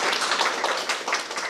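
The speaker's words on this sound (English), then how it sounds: "Let's clap for her again." Audience clapping at a university lecture on Filipino foodways, a brief burst of many hands applauding together, fairly close and even throughout.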